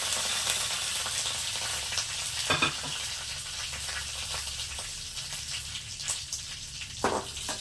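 Dried chillies, curry leaves and cumin crackle and sizzle loudly in hot oil in a pan, with a steady frying hiss and occasional sharp pops, close up and without talk.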